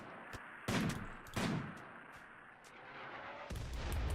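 Rimworld firefight gunfire: several sharp rifle shots and bursts crack out at irregular intervals, loud and punchy, with a heavier volley near the end.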